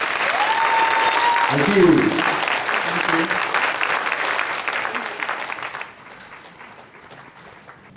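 An audience at a vegan-themed event in Chicago applauds a duo's song performance. Dense clapping runs strong at first, then thins and fades after about six seconds, while a voice briefly speaks over it.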